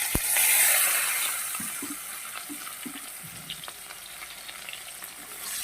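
Chopped onion dropped into hot oil left from frying fish, with black cumin and green chillies. A loud burst of sizzling at the start settles into steady frying crackle, with a few faint clinks and no talk.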